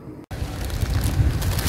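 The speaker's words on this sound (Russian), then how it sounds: "На улице ветер." Strong outdoor wind buffets the microphone near a city square, a loud continuous rumbling roar that starts after a brief cut and swells slightly toward the end.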